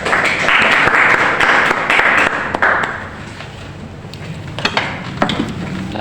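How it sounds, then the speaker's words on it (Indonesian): A classroom group claps together during a micro-teaching session, a dense burst of applause that gradually thins into scattered claps and ends with a few sharp, louder final claps. "Beri tepuk tangan semuanya"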